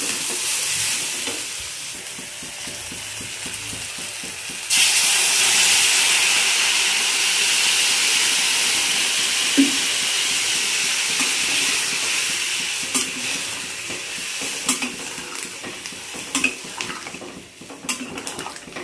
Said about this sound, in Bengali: সয়াবিনটা ভালো করে কষানো হয়ে গেছে, এখন দিয়ে দেবো জলটা।